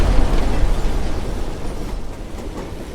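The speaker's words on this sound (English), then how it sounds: "Jesse detached the express car from the rest of the damn train" Train running on rails in the Call of Juarez: Gunslinger video game, with an express car. A heavy, continuous low rumble that is loud and close, with rolling clatter that eases slightly toward the end.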